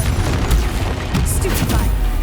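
Booming spell blasts from a Confringo blasting charm in the game Hogwarts Legacy, a dense rumbling barrage of low thuds running continuously at close range with bursts layered over one another.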